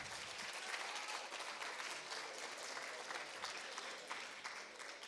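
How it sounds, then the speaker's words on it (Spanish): An audience claps at a professional internship experiences forum. The applause is dense and continuous but faint and distant, and it holds steady with no talk over it. "les brindamos un fuerte aplauso, por favor"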